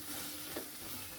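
Ginger-garlic paste sautéing with softened onion and tomato for Tamil egg curry, a faint steady sizzle with a couple of brief stirring scrapes.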